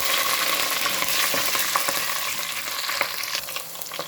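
Green chillies, curry leaves and urad dal frying in a pan: a loud, continuous close-up sizzle and crackle with scattered spatters and light stirring clicks, no voices.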